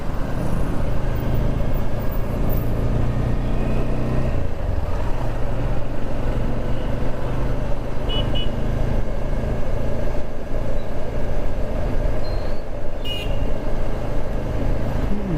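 A motorcycle's steady, loud engine drone with rushing road and wind noise while riding along, continuous throughout.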